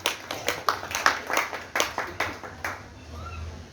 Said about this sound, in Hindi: तालियां कम, सुनना ज्यादा